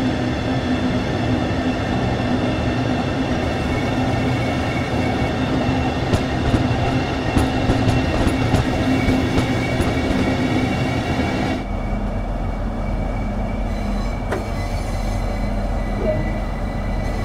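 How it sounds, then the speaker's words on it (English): A Class 395 Javelin high-speed electric train in Train Sim World 2 runs with a steady rumbling drone and rhythmic clicking of wheels, the sound shifting partway through to a deeper, lower rumble. "This particular train is a Class 395 Javelin built by Hitachi in Japan for European operation."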